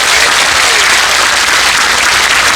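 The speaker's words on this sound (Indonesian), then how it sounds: "Tepuk tangan untuk NU Taiwan." Steady, loud applause from a gathered audience at a Nahdlatul Ulama community event in Taiwan, dense clapping filling the whole moment without pause and no talking over it.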